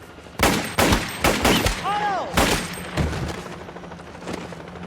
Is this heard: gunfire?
yes